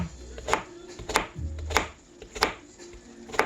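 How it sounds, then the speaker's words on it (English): A knife chops through an onion on a cutting board in five sharp, evenly spaced strokes, close and distinct, with faint low background noise between them and no talking. "Cut your onion. Cut it in half and then cut it again."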